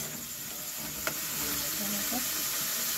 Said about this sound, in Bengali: আলুটাকে একটু ফ্রাই করে নেবো, টমেটো দিয়ে আলু ফ্রাই করে নেবো